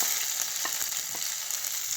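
Ginger and garlic fry with cumin in hot ghee for daal fry, giving a steady, close sizzle with a few soft pops and no voices.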